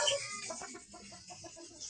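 Chickens clucking at night in a dark backyard coop, a steady run of short, soft clucks from several birds close by, with faint bird noise beneath and no talking.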